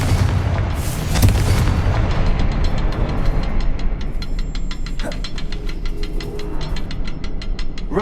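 Hogwarts Legacy's Confringo fire spell bursts in a loud, deep boom that rolls out, followed by crackling debris and rapid sharp ticks fading afterward.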